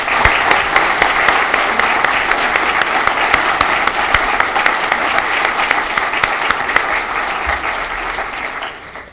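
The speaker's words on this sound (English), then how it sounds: "Thanks to both candidates. Give them a round of applause." Audience applause for candidates at a 2018 election forum, a steady sustained clapping from a crowd in a meeting hall, loud and continuous for the whole stretch with no talking over it.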